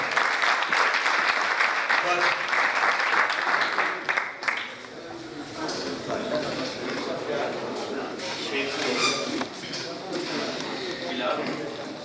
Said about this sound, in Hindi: बढ़िया बढ़िया तालियां तालियां